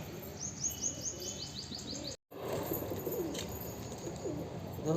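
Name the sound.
wild pigeons cooing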